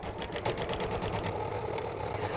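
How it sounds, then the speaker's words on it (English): An embroidery machine stitches the batting placement for an in-the-hoop mug rug at roughly 600 to 700 stitches per minute, a close, steady rapid mechanical chatter with a regular needle rhythm throughout. "I'm running at about 600, 700 stitches per minute."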